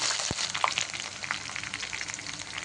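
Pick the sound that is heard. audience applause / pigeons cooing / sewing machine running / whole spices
whole spices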